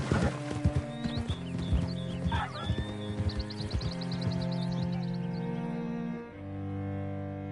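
Horse hooves clip-clopping in Red Dead Redemption 2, a few close hoof falls mixed with a whinny and other game sounds over a sustained tonal music-like background.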